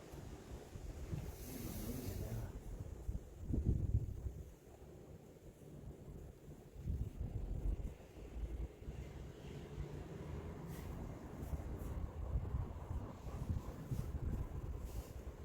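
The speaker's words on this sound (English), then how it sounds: "That was the wind." Wind buffeting a microphone inside or around a mill, a continuous low rumbling roar with gusty swells and no voices.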